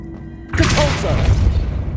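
A Depulso force spell goes off in Hogwarts Legacy, a sudden loud whooshing blast with a thumping impact after a quiet lead-in, its rumbling tail lingering for over a second.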